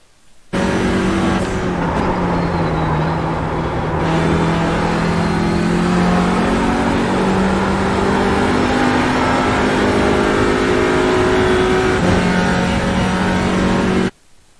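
An Audi RS3 LMS TCR race car in the iRacing sim at Spa, its engine loud and steady as the throttle is fed in, with rising revs and shift steps, heard from the cockpit with no talk.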